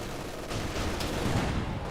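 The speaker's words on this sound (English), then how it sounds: "MG42 hitting the Grenadier." MG42 machine gun fire in Company of Heroes 2, a steady dense rattle of battle noise at moderate level without pauses, with no one talking over it.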